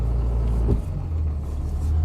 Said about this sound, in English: I'm gonna just back up and spin around.